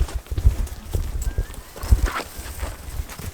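Horse hooves clip-clop in an uneven, squelchy rhythm as a rider crosses boggy swampland in Mongolia, with several close, heavy footfalls over a soft outdoor background and brief animal snorts.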